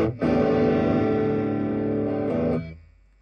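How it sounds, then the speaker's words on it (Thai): Electric guitar played through a Moo Kalai Shark Overdrive pedal into a PV amp with tone and gain at centre; a single thick, distorted chord rings loud and sustained for about two seconds, then cuts off into a brief fading tail. "เสียงออกมาดีแล้วคือเป็นโอเวอร์ไดที่ดีมากแล้ว"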